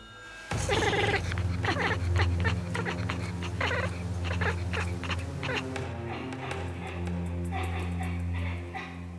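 A hunting cat gives a series of chattering, bleating cries at a bird overhead in quick, irregular bursts, fairly close, over a low steady hum.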